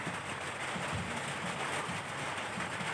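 Steady rain falling outdoors at a fishing spot, an even broadband hiss that fills the whole stretch with no voices.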